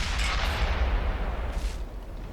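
Heavy tank gun of a Chi-Nu Kai firing in World of Tanks, a deep booming blast with a rushing broadband tail, followed by a second softer crack in a low rumbling battle ambience.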